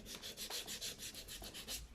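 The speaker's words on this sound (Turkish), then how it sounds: "Alüminyum burayı zımparalıyorum böyle." Aluminium part of a Yamaha motorcycle hand-sanded smooth before spray painting, heard up close as quick rhythmic back-and-forth rasping strokes, about four or five per second, with no talking.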